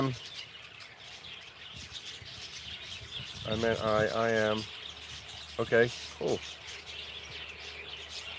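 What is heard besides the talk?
birds chirping in the morning, tiny finches, Thailand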